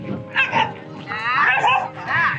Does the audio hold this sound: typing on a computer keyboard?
no